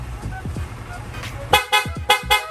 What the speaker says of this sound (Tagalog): pa-activate naman ang loud horn mo